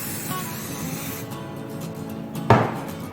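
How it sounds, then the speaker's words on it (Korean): Cooking oil spray hisses in one short, loud burst near the end, misted over apple pound cake batter in a home kitchen, following a stretch of quiet room tone. "사과빵도 잘 터지게 해주기 위해서 가운데 식용유 스프레이를 뿌려주겠습니다."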